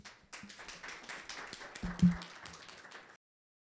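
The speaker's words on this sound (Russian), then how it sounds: "Аплодисменты. Вам." Scattered applause from an audience at a 2017 business-to-business summit, a brief burst of clapping that swells midway and then stops abruptly.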